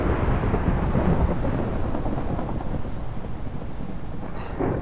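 A thunderstorm in a video game gives a continuous deep rumble of thunder with a rain-like wash, loud and close throughout, with no talking.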